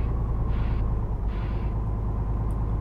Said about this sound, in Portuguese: O som do freio também